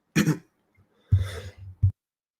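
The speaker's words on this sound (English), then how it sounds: "Sorry, I had to cough." Several close, dry coughs from a man on a trading talk show, a sharp burst followed by a longer throaty cough and a short final one, with quiet pauses between.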